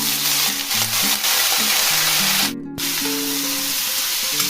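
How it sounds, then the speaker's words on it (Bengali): Carrots and beans fry in oil with a little ghee for vegetable fried rice, giving a steady close hiss of sizzling that drops out briefly midway, with faint tonal music underneath. "গাজর আর বিনসটা ভেজে নিচ্ছি।"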